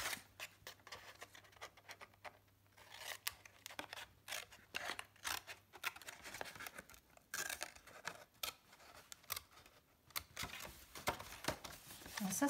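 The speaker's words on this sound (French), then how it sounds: "ce que je vais faire, c'est que je vais prendre mes ciseaux et tranquillement" Scissors snipping through lined paper for a pop-up card, a series of quiet, uneven cuts heard up close in a calm room with no talking.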